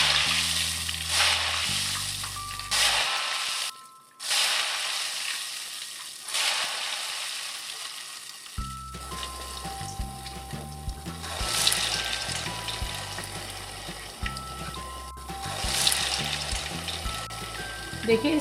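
Ghevar batter frying in hot oil in a kadhai, with a steady sizzle and bubbling under background music, briefly dropping out and resuming.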